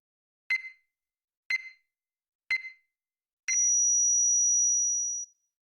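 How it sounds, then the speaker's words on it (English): Electronic phone beeps from the video game Chaos;Child signal an ended call: three short, evenly spaced bright beeps, one second apart, then a long sustained tone of nearly two seconds, clean and alone. "suddenly I heard the cold electronic beep of an ended call"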